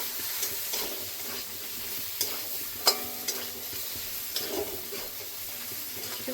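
Ridge gourd pieces frying with spice paste in a pan for a Bengali fish curry give a soft, steady sizzle, with the occasional scrape and clink of stirring and no talking.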